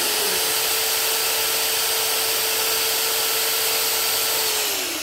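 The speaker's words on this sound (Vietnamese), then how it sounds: "Bây giờ khoan xin hai lỗ này lại với nhau." A power drill bores two holes through a part of a Mitsubishi T170 tractor, a steady loud whine holding one pitch for about five seconds before winding down at the end, with no talk.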